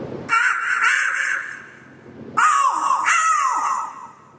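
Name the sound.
mimicry artist imitating a crow cawing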